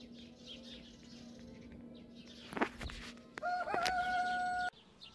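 Roosters crowing somewhere in rural Serbia, a drawn-out crow rising over faint background birdsong and ambient hiss, fairly distant and moderate in level.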